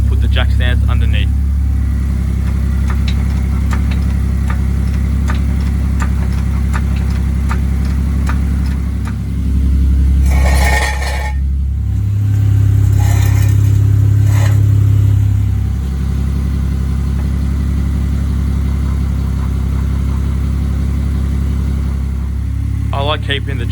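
Ford Falcon FG engine warming up before an oil change, a steady low idle droning throughout with a brief rise in revs midway, close and continuous, with some background noise around it.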